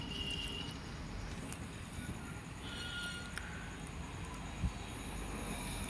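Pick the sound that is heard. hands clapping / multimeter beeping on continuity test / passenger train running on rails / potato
passenger train running on rails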